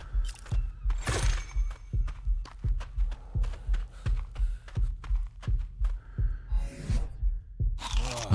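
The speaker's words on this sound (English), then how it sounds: "A heartbeat has pissed me right off." A steady, rhythmic heartbeat thumps through the video game ARK: Survival Ascended, low and regular at roughly two beats per second, layered under clicks and bursts of game effects.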